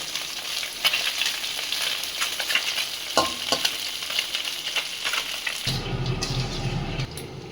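Fish lightly coated in flour frying in a kadai, a continuous close sizzle with occasional stirring clatter, shifting to a softer, lower bubbling tone near the end, no voices.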